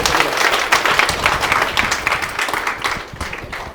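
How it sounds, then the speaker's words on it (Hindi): Loud, close applause from an audience at a success-story gathering, many hands clapping densely and then thinning slightly toward the end. "एक बारी इन सब हीरो के लिए एक बारी जोरदार ताली"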